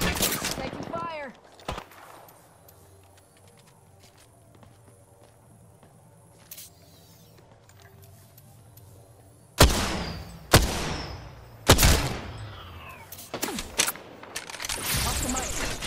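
Gunfire in the Apex Legends battle royale game: a quiet opening with a sharp early crack, then loud bursts of rapid shots from about ten seconds onward, jumbled with footsteps and impacts in a busy firefight.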